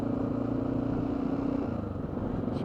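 A Honda XR650L motorcycle engine rumbles steadily after a downshift on a dirt trail, a loud, close, even single-cylinder throb that holds through the whole moment.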